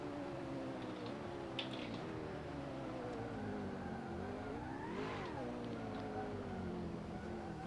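A drift car engine held at full throttle drones steadily, its pitch rising and falling as the car slides through a layout, with a sharp surge of revs partway through and faint tyre noise underneath.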